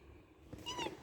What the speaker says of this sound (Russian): Кто-то мяукает, кто-то зовет.